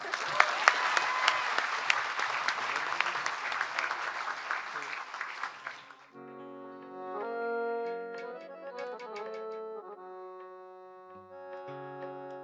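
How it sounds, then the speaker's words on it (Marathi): Dense audience applause fills an award ceremony hall for about six seconds, loud and steady, then stops abruptly as an orchestra's melodic music takes over. "वन्स मोर टाळ्या पण होऊ द्या ना"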